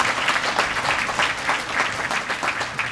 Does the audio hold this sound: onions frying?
no